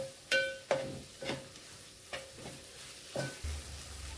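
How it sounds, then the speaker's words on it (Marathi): Coriander being sautéed in a hot tempering for a wet dried-shrimp dish, with a soft frying hiss under about six sharp spatula clinks against the pan, close and irregular. "त्यातली अर्धी कोथिंबीर आपण यामध्ये टाकून परतून घेऊया"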